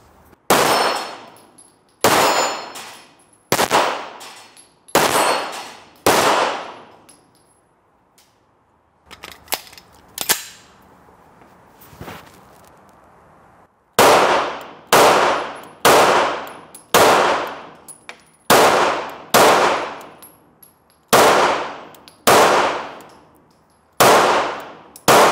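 Springfield Echelon pistol fired at an indoor shooting range, loud sharp single shots in spaced groups of three or four with ringing decay, a quieter pause mid-sequence, no talk.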